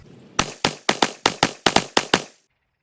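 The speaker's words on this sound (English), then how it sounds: "And we'll just keep shooting for function." Rifle firing Hyperperformance 40 grain ammunition at a range, nine sharp, loud shots in a quick, slightly uneven string, then silence.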